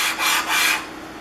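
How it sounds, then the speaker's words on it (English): A metal hand plane frog rubbed back and forth on sandpaper to remove rust, giving two raspy abrasive strokes, close and clear, followed by a quieter tail. "You're going to put it on the edge of your sandpaper, let the frog hang over, and run it back and forth."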